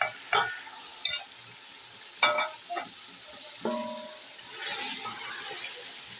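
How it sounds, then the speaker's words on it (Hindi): Chopped green onion, green chili and coriander fry quietly in a pan for an egg and potato curry, with a soft steady sizzle and a few sharp clinks and scrapes from stirring. "अब हमने ये हरी प्याज, हरी मिर्च, हरा धनिया जो काट कर रखा हुआ है वो भून लेंगे।"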